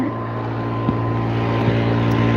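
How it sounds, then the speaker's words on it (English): A neighbor's leaf blower clears a driveway outdoors, droning as a steady, fairly loud engine hum with a constant tonal whine and no pauses. "My neighbor is out here blowing down his driveway."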